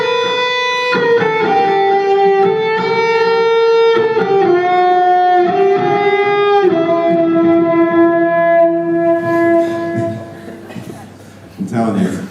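A sustained electric guitar note bends and wobbles off pitch, sour and slightly out of tune, ringing out before fading away.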